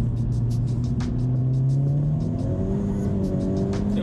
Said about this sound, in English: Little bit of wheel spin.